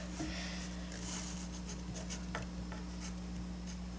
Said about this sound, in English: Let's write on it before we answer it.